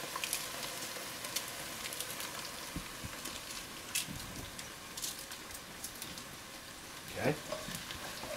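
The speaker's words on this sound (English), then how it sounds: "We're going to brown our garlic." Garlic and crushed red chilies fry in a hot pot of oil with a soft, even crackling sizzle, punctuated by occasional light pops and a brief louder burst near the end, while a voice speaks once briefly.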